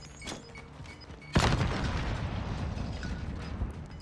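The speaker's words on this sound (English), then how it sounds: "I'm gonna throw a grenade straight up." A grenade blast from Call of Duty Warzone erupts suddenly and loudly near the player, a deep boom followed by a long rumbling, crackling decay with scattered distant pops.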